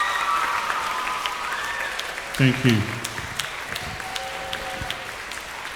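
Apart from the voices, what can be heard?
audience applause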